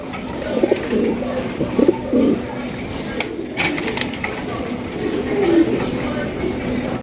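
Domestic and foreign pigeons at a wholesale sale coo repeatedly in low, rolling calls. Murmuring voices and occasional rattles run underneath.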